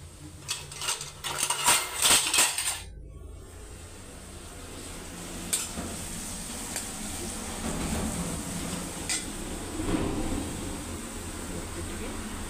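A spoon and cutlery clink sharply against a dish in a home kitchen, a quick cluster of metallic taps early on, followed by quieter handling noises under a steady background hum.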